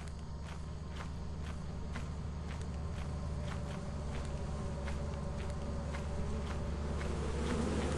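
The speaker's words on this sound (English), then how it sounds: "Why are there so many beehives, actually?" Bees buzzing around beehives in Lethal Company, a continuous steady drone with faint rhythmic footsteps tapping underneath.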